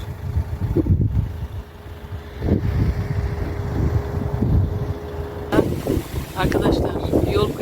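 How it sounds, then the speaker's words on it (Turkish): Steady low rumbling wind buffets the microphone throughout, with a voice speaking intermittently over the gusty roar. "Çok da rüzgar var."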